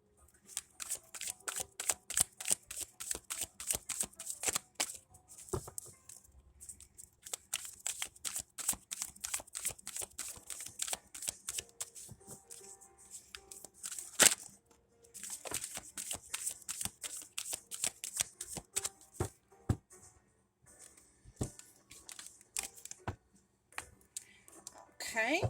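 A deck of tarot cards being shuffled by hand, quick rapid riffles and soft slaps in irregular bursts, close and crisp, with quiet speech in between.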